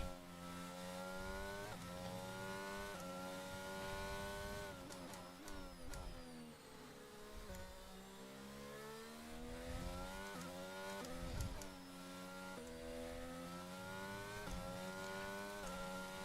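A Formula 1 race car engine in the F1 22 video game screams at high revs with smooth gear changes and pitch dips, sustained and close, as the car runs through corners with low downforce.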